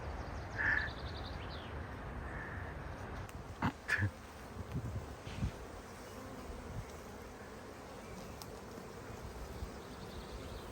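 Bees buzzing around a beehive outdoors on a walk in Bavaria, a faint, continuous insect drone with a few brief louder clicks and knocks, a distant bird call or two, and no talk.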